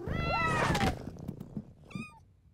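A cartoon kitten in a Polly Pocket episode gives a long, high, wavering meow, then a shorter second meow after a brief pause.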